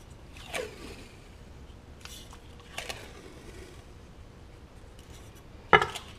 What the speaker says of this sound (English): I just wrap tape around this whole edge